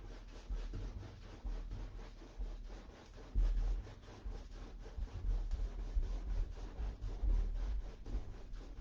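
Paintbrush rubbing paint onto canvas, a continuous rhythmic scrubbing of short back-and-forth strokes, close and fairly quiet.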